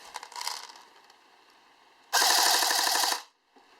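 CYMA AK airsoft electric gun with its stock motor and a 9.6 volt stick battery fires one rapid full-auto burst of about a second, a loud buzzing whir of shots, after quieter mechanical handling noises.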